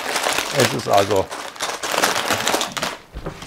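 Plastic bags of building-kit parts crinkle and rustle in bursts while a person talks over them, close by and fairly loud.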